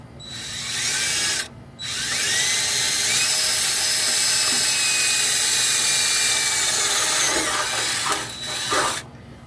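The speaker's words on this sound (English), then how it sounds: "We're just gonna start it with a 1/8 drill bit here to kind of just get our pilot hole going" A power drill with a 1/8 inch bit whirs steadily drilling a pilot hole in a C10 square body truck, briefly stopping near the start and winding down with short bursts at the end.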